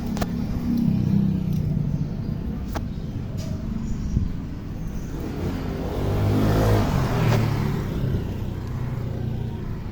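A motorcycle engine drones steadily while riding, with a low rumble that swells briefly midway, plus wind noise.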